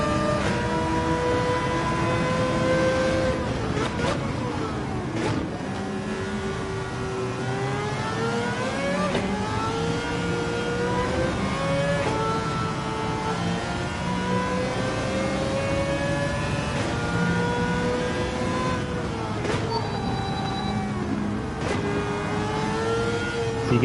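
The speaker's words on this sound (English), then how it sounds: "It's hard not to love a four-rotor motor. They just, I mean, literally scream." The four-rotor engine of a Mazda 787B race car in Gran Turismo 7 screams as it revs and shifts repeatedly, pitch climbing then dropping at each gear change, loud and continuous throughout.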